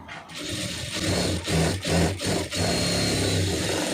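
A sewing machine runs a straight stitch along a boat neck on fabric, its motor whirring steadily with a few brief dips as the stitching pauses and restarts.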